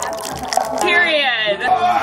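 Liquid pours into a cup while someone mixes a vodka and water drink. The pour is a brief rising gurgle that plays under close, chatty voices.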